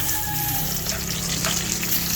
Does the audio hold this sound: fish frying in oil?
yes